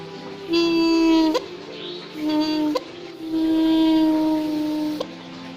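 Three breathy, whistling tones from air blown through the membrane hole of a two-stroke Kawasaki Ninja motorcycle part, each a steady hum lasting about a second, ending with a soft click.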